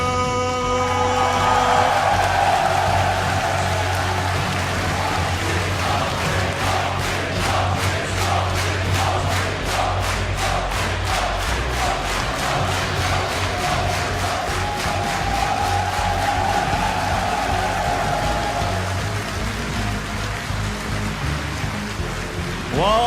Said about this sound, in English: Well, this crowd is definitely ready